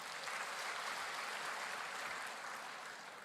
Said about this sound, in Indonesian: terima kasih dan tepuk tangan juga untuk beliau tentunya.